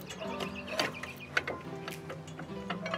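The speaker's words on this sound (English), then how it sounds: "Pry the caliper off of the rotor." A pry bar levers a brake caliper off its rotor during a brake pad replacement, giving close metallic creaks, clicks and scraping clunks that shift irregularly over a few seconds.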